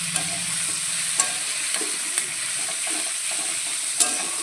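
Potatoes and raw pumpkin fry lightly in a pan with a steady, close hiss of oil, and a utensil stirs them with occasional soft scrapes.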